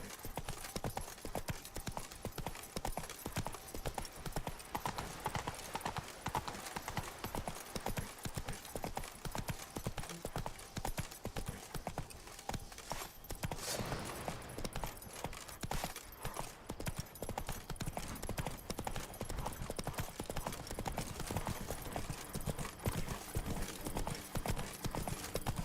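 Rapid, rhythmic clip-clop of a horse galloping in The Witcher 3: Wild Hunt, hooves pounding in a steady drumming pattern that runs continuously with occasional faint game voices.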